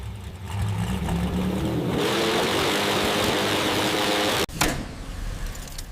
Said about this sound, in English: This is the engine they said was too dangerous to release.